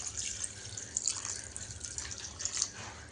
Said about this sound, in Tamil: இப்போ இந்த டைமில் கொஞ்சம் நம்ம ஒரு 1/2 சொம்பு தண்ணி ஊற்றிக்கலாம்.